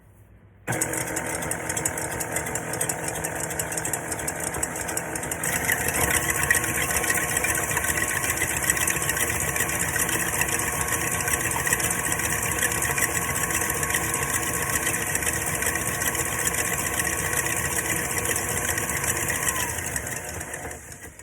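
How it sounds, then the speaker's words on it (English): A KitchenAid stand mixer whips egg whites for meringue cookies, producing a continuous loud motor hum and whine that kicks in abruptly, steps up in speed partway through, and runs steadily for nearly twenty seconds without talk. "So I'm going to put my KitchenAid mixer down into my bowl, and all I'm going to do is turn it on slow"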